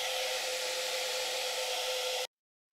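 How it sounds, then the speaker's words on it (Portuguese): A hair dryer runs with a loud, steady broadband blowing roar, continuous and close, then cuts off abruptly near the end with no talk over it. "Um secador de cabelo."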